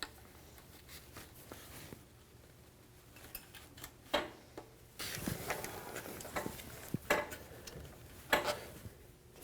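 Plastic push clips snapped into a Ford Ranger front bumper impact absorber, giving quiet, close clicks and pops in a few separate bursts with light handling noise between, no talk.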